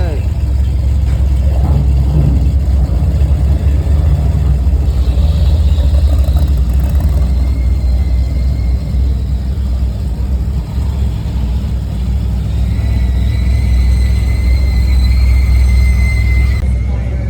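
A Corvette with manual transmission idles at a car cruise, its engine a loud, steady low rumble close by, with people talking over it and faint whistling tones rising toward the end.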